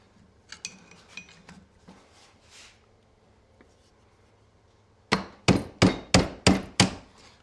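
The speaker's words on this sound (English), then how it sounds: "Let me see if we've got a hammer and something to whack on." A hammer strikes a screwdriver held against a Hydro Gear zero-turn mower transmission drain plug: six sharp, loud metallic whacks in an even rhythm, after a stretch of quiet tool clicks and fumbling.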